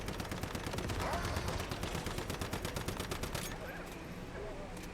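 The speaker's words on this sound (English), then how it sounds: "when he starts shooting at you like that with his minigun" A boss in Once Human fires a minigun in a fast, continuous rattling stream for about three and a half seconds, then it cuts off into quieter game sounds with a voice.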